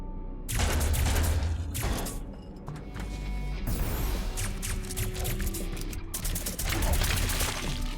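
Rapid pistol gunfire in the top-down twin-stick shooter I See Red, with dense bursts of shots and crashes sounding continuously and loudly throughout, game music and effects layered beneath.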